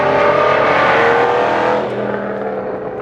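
A 2017 Aston Martin Vantage GT8 with a naturally aspirated V8 and manual gearbox roars loud and close, its engine note climbing and then easing off into a lower, steadier drone.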